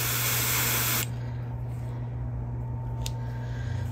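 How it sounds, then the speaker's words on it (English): Loud aerosol spray paint hissing onto a sunfish swimbait lure for about a second, then it stops, leaving a steady low hum and faint background noise. "I will show you how it looks after I've finished spraying"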